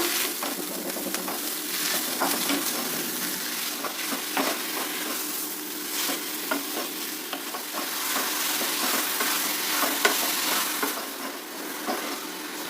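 Steady scraping and sizzling as jaggery and coconut are stirred in a pan over heat, a continuous close frying hiss with brief spoon scrapes, no talking.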